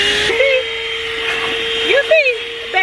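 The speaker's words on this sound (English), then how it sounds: "I got a portable vacuum cleaner up in my car and I'm about to vacuum the dirt" A portable handheld vacuum cleaner runs loud and close while cleaning dirt off a car seat, its steady whine shifting in pitch as the nozzle moves, with brief bursts of speech over the motor.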